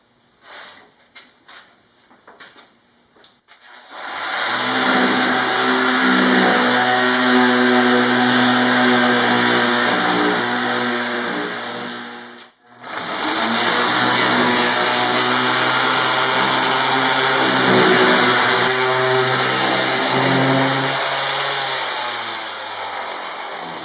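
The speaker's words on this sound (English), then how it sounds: "So let's do some sanding." A power sander runs loud and close over a wooden RV work bench top in two long steady passes with a brief pause between, its motor droning evenly, with no talking.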